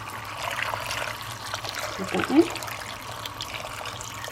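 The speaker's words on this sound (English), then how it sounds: "I've also got a vegetable stock cube there hiding, which I'm just going to add some water to now." Water trickles and pours onto a vegetable stock cube in a kitchen, a soft steady stream that briefly swells, with a person speaking over it.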